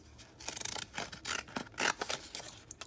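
Rapid, crisp snipping and rasping cuts from mini pinking scissors working through paper, in quick irregular bursts, close and fairly quiet.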